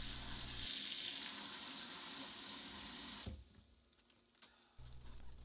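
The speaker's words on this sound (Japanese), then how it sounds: "流水で念入りに洗っていきます。" Tap water runs steadily over harvested, pesticide-free napa cabbage being rinsed, a close gushing stream that cuts out briefly, leaving quiet handling sounds, then starts again.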